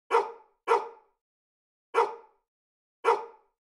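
A dog barks four times, short sharp separate barks with a gap in the middle, close and clear against silence.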